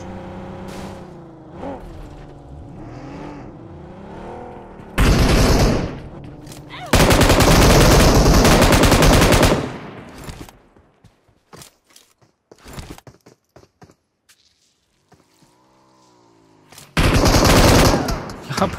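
PUBG Mobile pre-fire gunfire rips out in loud, dense automatic bursts, several seconds each and separated by quieter gaps, with a revving engine earlier and scattered single cracks between the volleys.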